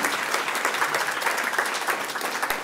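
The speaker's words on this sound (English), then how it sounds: "And maybe the students will clap," Students at a Duke global health commencement applaud their faculty, a full steady round of clapping from a sizeable crowd in a hall, continuous and fairly loud with no talk over it.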